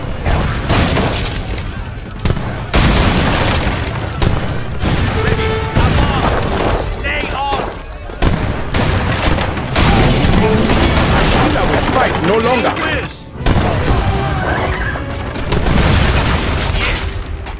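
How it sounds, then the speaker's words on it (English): Bomb explosions and gunfire in the strategy game Age of Empires III Definitive Edition: a dense, loud, continuous battle din of booms and crackling shots with shattering debris, rolling on without pause. "Ready, a bomb!"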